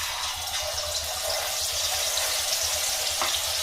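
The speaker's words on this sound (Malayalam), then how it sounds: "നമ്മൾ ഇനി ചൂടായ എണ്ണയിലേക്ക് നമ്മുടെ ചിക്കൻ പീസ് കുറച്ച് മാഗ്നേറ്റ് ചെയ്ത് വെച്ച ചിക്കൻ നമ്മൾ അതിലോട്ട് ഇട്ട് കൊടുക്കണം." Marinated chicken pieces fry in hot oil with a dense, continuous sizzle and crackle, steady and close throughout, without talk.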